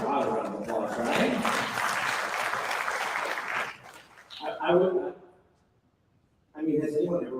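An audience at a talk claps in a dense burst of applause for a few seconds, then a voice speaks in short phrases after it dies away.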